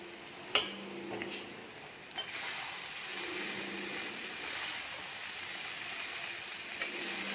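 Poha (flattened rice) stirred in a pan, soft scraping and rustling over a low sizzle with a few sharp clicks of the spoon against the pan, close and steady throughout.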